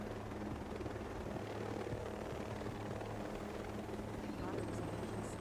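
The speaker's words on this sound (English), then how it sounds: "Helicopters. Yeah, they got helicopters." Helicopters in the video game Ghost Recon Breakpoint make a steady, faint rotor drone with a continuous whirring texture, lasting the whole stretch without pause.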